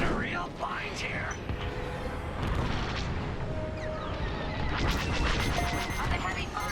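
Heavy blaster and cannon fire crackles and booms through a Star Wars Squadrons space dogfight, a dense continuous barrage with sharp bursts rising near the end, heard under game chatter and radio voices.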